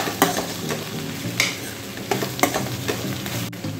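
Cabbage and capsicum fry in a pan with turmeric and salt while a spoon mixes them, sharp scraping stirs landing every half second or so over a constant close sizzle, with no talking.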